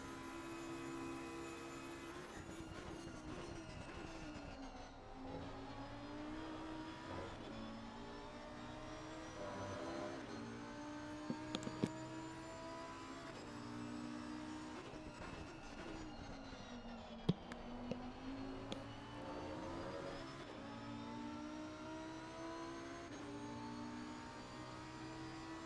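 Lamborghini Huracan GT3 race cars at Bathurst in a sim racing game, engines droning steadily with rising and falling pitch as they accelerate and shift, several cars close together, continuous throughout without talk.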